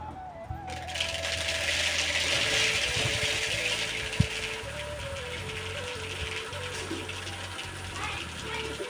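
Ragi grain feed poured out steadily into a container, a continuous hissing rush of small grains with a single sharp knock midway, running throughout.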